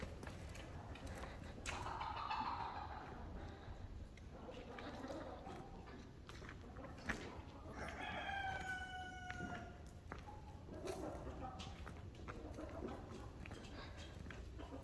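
Ameraucana chickens crow and cluck in a farm coop, faint and somewhat distant over a steady background hiss, with a few overlapping crowing calls through the middle.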